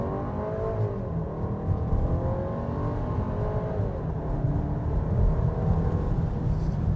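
A 2026 Volkswagen Tiguan Turbo with a 268-horsepower turbocharged engine accelerates hard from a stop, a steady droning engine note climbing through gear changes, heard from inside the cabin with no talking.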